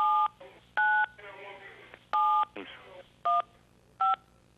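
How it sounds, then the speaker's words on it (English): Several short electronic phone beeps sound in quick succession, clear and close, with muffled talking between the tones. "I don't know what that was about, but other than phone beeping."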